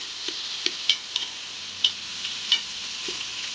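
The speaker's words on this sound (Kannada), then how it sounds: "ಈಗ ಚೆಂದಂಗೆ ಫ್ರೈ ಮಾಡ್ಕೋಬೇಕು ರೀ ಅವನ್ನ." Chopped onions and curry leaves fry in hot oil in a pan, giving a steady bright sizzle with a few scattered pops and crackles throughout, no talking.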